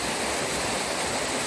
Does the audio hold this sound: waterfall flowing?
yes